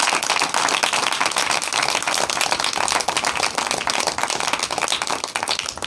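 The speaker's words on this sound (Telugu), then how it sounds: "ఉత్సాహంగా ఉన్న వాళ్ళు మొత్తం ఒకసారి చప్పట్లు కొడతారా?" A congregation at an evening fasting prayer meeting in Ajmapur, Nalgonda, claps in dense, sustained applause that stays steady and fairly loud for several seconds.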